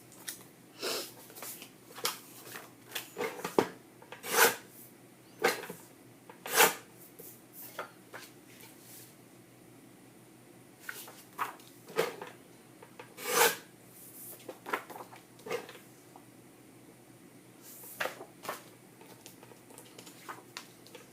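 Scissors or a trimmer cut photos for a scrapbook, producing a series of short, crisp snips and rasping scrapes at irregular intervals, close and fairly quiet against a hushed background.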